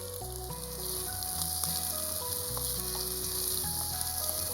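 Prawns for fried rice sauté in a frying pan with a steady close sizzle and occasional stirring, under soft background music, with no voices.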